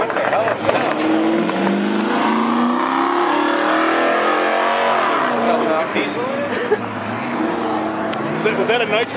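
A race car engine roars and surges on a road course during an ISSCA event at Waterford Hills, the loud, sustained revving rising and falling in pitch, with talk mixed underneath.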